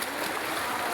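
Fresh, clear water flowing in a stream under thick vegetation, a steady broadband rushing and trickling wash, close and continuous with no pauses.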